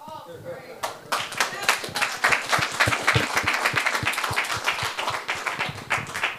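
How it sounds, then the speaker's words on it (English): Lively audience applause at a church gathering with dense, rapid clapping from many hands, sustained throughout, with some voices mixed underneath. "Clap it up again for Darash, man."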